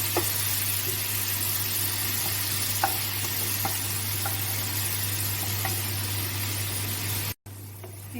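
Ground onion fries in hot oil for a raw banana kofta curry, a steady close sizzle with occasional soft stirring scrapes and a constant background hum, no voices.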